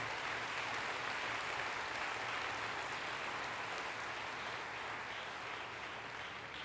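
A church congregation applauds during a sermon with faint, steady, distant clapping that holds evenly for several seconds with no voices over it.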